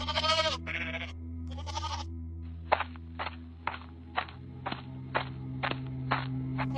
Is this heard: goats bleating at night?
yes